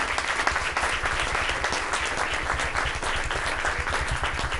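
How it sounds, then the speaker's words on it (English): A crowd applauds youth sports teams with steady, dense clapping that holds at an even level for several seconds, with no single voice standing out. "So give yourselves a big round of applause"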